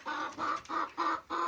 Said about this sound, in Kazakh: Оның орнына біздер 7 тауық алып келдік